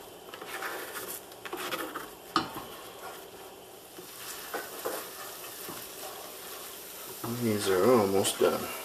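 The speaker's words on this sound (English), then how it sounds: "stir continuously. You need to stir constantly." Scrambled eggs and lobster stirred constantly in a pan, a steady scraping and soft sizzle under a talking voice, rising to louder bubbling sizzle near the end.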